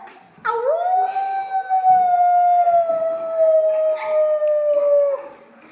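A child imitates a jackal's howl, one long, sustained, sliding wail held for about five seconds, close and loud, then cut off.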